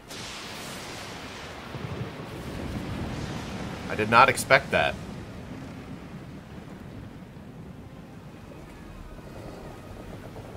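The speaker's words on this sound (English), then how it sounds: "The storm picks up, lashing your ship and driving you dangerously close to a rocky shore." Wind and surging waves roar around a ship in a storm in Pillars of Eternity II: Deadfire, a steady broad rush with a brief burst of sharper crashes partway through, while someone talks over it.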